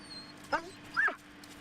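A police dog gives two short whimpering yips about half a second apart, fairly close and moderately loud, over a quiet background.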